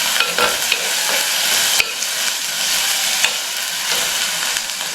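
Chopped onions, curry leaves and other cut ingredients hit a smoking hot pan, a loud continuous sizzle with scraping stirs throughout, no voices.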